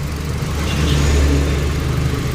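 Idling engine of a 2020 Hyundai Accent with the air conditioning running, a steady low rumbling hum with a heavy vibration, close and continuous without talk.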